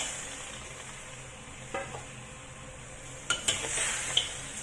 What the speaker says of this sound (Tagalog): haluin lang natin hanggang sa magkakulay yung ating pork bago tayo maglagay ng tubig